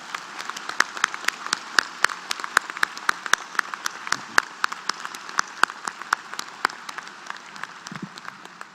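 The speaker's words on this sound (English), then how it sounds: "So could we please give him one more round of applause?" An audience at a white coat ceremony for osteopathic medical students claps at moderate distance, with many sharp individual claps forming a steady, scattered patter throughout.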